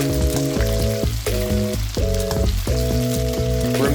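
Steady crackling sizzle of orange chicken frying in hot oil in a wok, continuous and fairly loud, with some clanking underneath.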